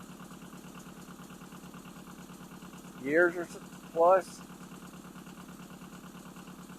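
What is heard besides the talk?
Yanmar 1700 tractor engine idling while warming up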